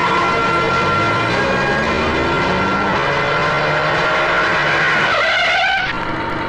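Car pulling away after being stopped at a no-entry point, a loud engine and skidding rush that builds and then sweeps off, ending in a brief rise and fade.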